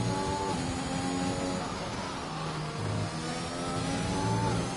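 A Mercedes Formula 1 car in F1 2021 at the Italy circuit accelerates hard out of a chicane, its high engine whine sweeping steadily upward through the gears, loud and continuous with a second engine tone layered beneath.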